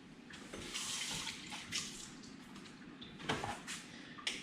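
Water runs from a kitchen tap while a pot of coffee is being made, a steady hissing stream with a few soft knocks and clatters around it, close by, no talk.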